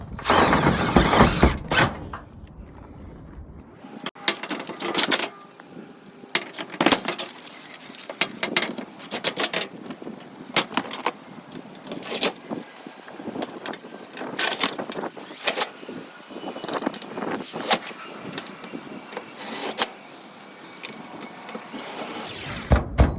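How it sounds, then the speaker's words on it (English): A power drill drives sheet metal screws into a metal roof while a roof vent is installed, heard as repeated short whirring bursts with pauses between them, close and fairly loud, with no talking. "So we're going to put a lot of screws in."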